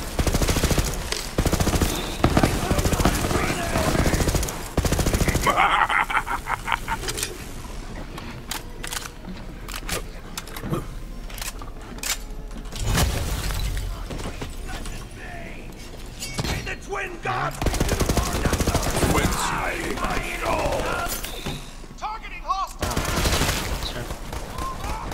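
Gunfire in Borderlands 3 co-op play, with rapid machine-gun bursts and scattered single shots popping in dense, loud clusters, interrupted by brief gaps and shattering impacts, while people talk at times.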